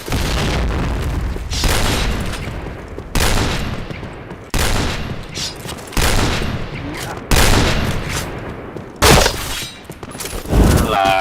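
Repeated loud bursts of grenade explosions and rapid gunfire in a first-person shooter video game, arriving in heavy blasts every second or so.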